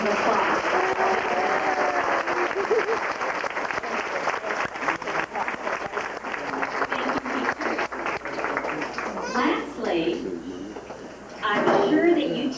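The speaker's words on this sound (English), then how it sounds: "Now let's give our teachers an appreciative applause" An audience at a 2001 awards ceremony applauds teachers, dense clapping at first that thins out, with voices and stray room noises rising near the end.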